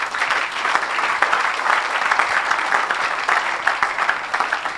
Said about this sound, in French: Acclamez Jésus dans cette salle.